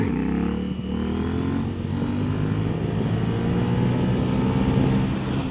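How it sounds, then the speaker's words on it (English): CF Moto 800NK motorcycle engine roars steadily and loudly throughout while the bike does wheelies, a continuous close drone with slight rises in pitch and no talk over it. "Check those wheelies, dude."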